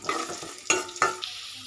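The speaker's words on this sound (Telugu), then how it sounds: "అల్లం ముక్కలు బాగా వేగాలి. తర్వాత క్యారెట్ ముక్కలు ఇవి కూడా బాగా వేగాలి." Ginger and carrot pieces fry in a pan for upma, with a few sharp stirring clatters and crackles over a soft sizzle, close up and without voices.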